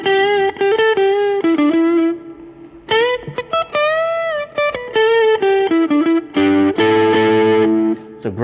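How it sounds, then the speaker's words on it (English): Electric guitar runs through the Driven Deluxe overdrive preset of a Fender Mustang Micro Plus, giving a loud, gritty, sustained tone in bluesy phrases with bends and chords, close and alone. "It's called Driven Deluxe, and it's just your basic overdriven sound."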